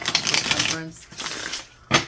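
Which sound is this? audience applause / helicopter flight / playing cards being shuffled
playing cards being shuffled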